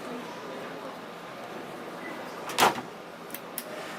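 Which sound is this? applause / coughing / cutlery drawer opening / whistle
cutlery drawer opening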